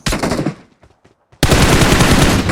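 Gunfire in a solo-versus-squad battle royale video game: a loud rapid automatic burst, a short near-silent gap with faint scattered shots, then another heavy continuous volley of close fire.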